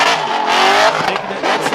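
A drag race car at an LS engine festival holds its engine against the rev limiter, a loud, continuous buzzing roar that stutters as the limiter cuts in and out, close and steady for the whole stretch.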